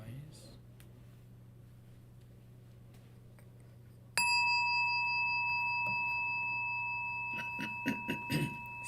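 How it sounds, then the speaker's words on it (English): A meditation gong struck once to close a Buddhist chanting session rings out sharply and clearly, its long metallic tone sustaining and slowly fading while soft murmurs and shuffling rise near the end. "when you hit a gong"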